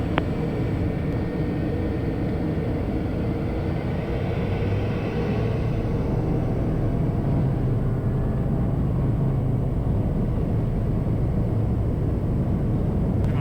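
A Piper Meridian P46T turboprop on a takeoff run from the runway, a steady, loud engine roar and rumble that holds without a break throughout.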